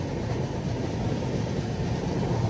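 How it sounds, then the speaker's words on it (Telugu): A cargo train overtakes a moving passenger train on a parallel track, a steady, loud rumbling roar of wheels and carriages, continuous and close, with no voices. "ఈ ట్రైన్ కార్గో ట్రైన్ అన్నమాట."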